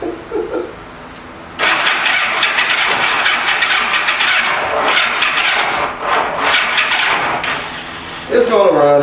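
A 1985 Honda Gold Wing 1200cc motorcycle left sitting for five years, likely cranking, then catching and running loud and rough for several seconds. Brief talk comes before it starts and again near the end.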